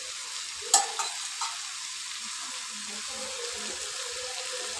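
Pumpkin and Malabar spinach curry with mustard paste being stirred in a pan: a faint, steady sizzling hiss, with a couple of soft spoon clinks near the start.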